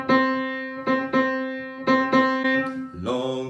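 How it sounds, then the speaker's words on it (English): Piano chords struck in a syncopated long-short pattern, several sustained hits ringing close and clear, ending with a quick lower run of notes. "So a syncopated rhythm may sound something like this."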